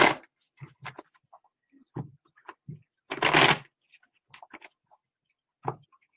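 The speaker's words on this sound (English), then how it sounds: "one more shuffle, two more shuffles, split the deck" Cards are shuffled in short crisp bursts, with one longer riffling cascade in the middle and sparse taps and clicks between.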